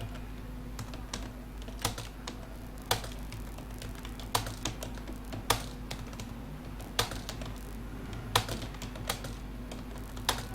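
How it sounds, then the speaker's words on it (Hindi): Someone types on a computer keyboard placed a little way off, with irregular single key taps spaced out across the span over a low steady hum. "ये मैंने जुमला टाइप किया है"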